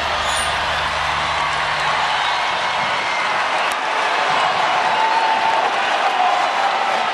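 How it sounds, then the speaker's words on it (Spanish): A large outdoor crowd gives a sustained ovation at the World Youth Day 2011 vigil at Cuatro Vientos, steady dense applause and cheering that holds at an even loud level throughout. "Gran ovación."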